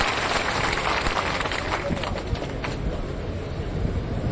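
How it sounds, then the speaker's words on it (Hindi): Audience at an outdoor village protest gathering applauding to welcome a speaker, a dense, loud patter of clapping from many hands, sustained and fairly close throughout with no pause. "एक बार जोरदार तालियां बजा के इनका स्वागत कीजिए"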